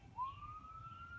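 A faint siren wails steadily in the distance, a single long rising tone over low background rumble, heard from inside a van.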